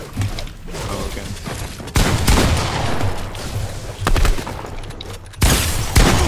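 SMG bursts in a box-fighting shooter game, several sharp salvos of rapid shots separated by brief gaps, loud and close.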